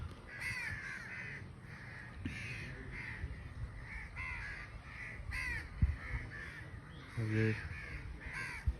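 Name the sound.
many crows cawing in a village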